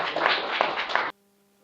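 A short burst of audience clapping at a mushaira poetry recital in Delhi, a close, dense patter lasting about a second before cutting off abruptly into silence.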